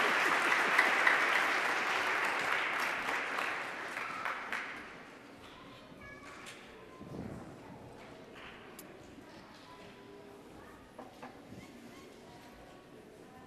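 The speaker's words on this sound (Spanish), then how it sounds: "un aplauso para los niños" Applause for the children at a church Mass honoring Our Lady of Guadalupe, a dense burst of clapping that fades after a few seconds into quieter room noise with scattered claps and faint movement.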